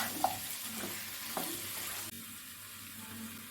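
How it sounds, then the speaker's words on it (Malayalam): A spoon stirs chicken vindaloo in a pan, with vinegar just added. A few close scraping knocks sound over a soft, continuous sizzle, and there is no talking. "ഞാൻ നന്നായിട്ടൊന്ന് മിക്സ് ചെയ്യാം"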